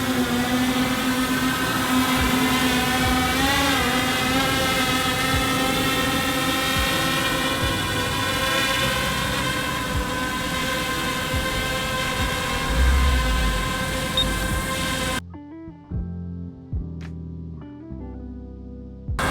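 A Yuneec Mantis Q drone in flight gives off a steady, loud, high-pitched whine with stacked harmonics and a slightly wavering pitch, then cuts off abruptly near the end into quieter scattered sounds.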